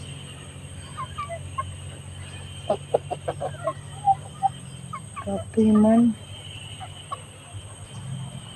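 Backyard chickens clucking and murmuring nearby in short bursts, with one louder drawn-out call partway through, while a person speaks a few words.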